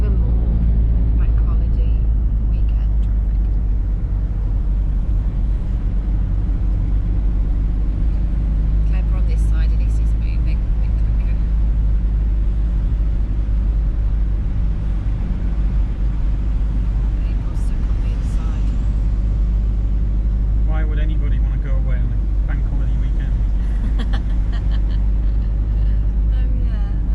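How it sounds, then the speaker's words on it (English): Constant low engine rumble and road noise from inside a campervan in bank holiday weekend traffic, steady and unbroken throughout, with faint passing vehicle sounds. "And even more bank holiday weekend traffic."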